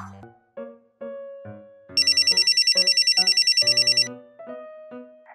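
A telephone rings with a bright electronic warbling tone in a steady burst of about two seconds over soft background music.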